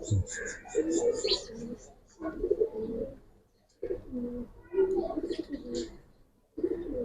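Fancy pangkhi pigeons offered for sale coo up close in repeated throaty bursts, with short quiet gaps between the calls.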